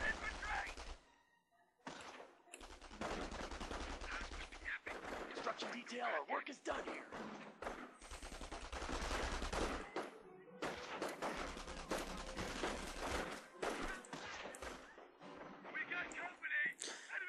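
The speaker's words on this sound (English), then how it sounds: "he sets up an MG42 on me" An MG42 machine gun in Company of Heroes rattles out long, dense bursts of rapid automatic fire, with brief pauses between volleys and heavy battle thuds mixed in.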